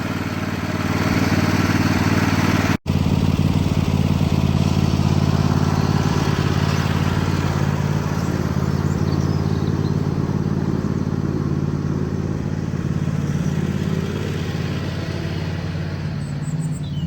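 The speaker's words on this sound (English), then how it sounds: "it can get itself warmed up, and same with the red tractor" A small red tractor's engine runs steadily at idle as it warms up outdoors at a cabin, a close, continuous low mechanical drone with a brief cutout near the start and no talking.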